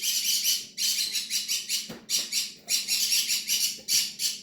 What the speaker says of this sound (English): My birds love being like a special guest, so don't mind them. They're being really loud.